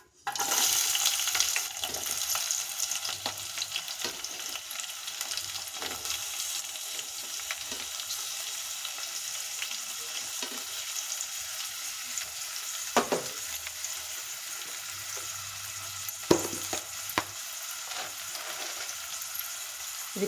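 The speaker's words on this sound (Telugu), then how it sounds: "ఇప్పుడు కట్ చేసి పెట్టుకున్న ఉల్లిపాయ పచ్చిమిర్చి వేస్తున్నాను." Chopped onion and green chillies hit hot oil with a sudden bright sizzle that settles into a steady, even frying hiss, broken by a couple of brief stirring scrapes.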